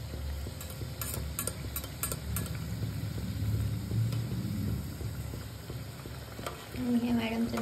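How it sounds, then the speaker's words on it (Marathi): Samosas frying in hot oil in a home kitchen, a soft continuous sizzle with scattered ticking clicks and a few utensil knocks, with faint voices near the end. "मी समोसे तळतोय"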